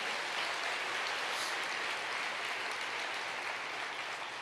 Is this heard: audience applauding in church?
yes